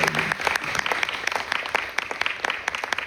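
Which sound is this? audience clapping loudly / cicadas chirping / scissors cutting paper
audience clapping loudly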